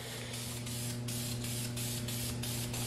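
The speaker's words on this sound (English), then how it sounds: "giving its first base coat on the transmission side" A continuous hiss of spray paint laying a base coat on the transmission side of an engine bay during a K20 Tiptronic swap, steady and close with brief pulses as the spray passes, no talking.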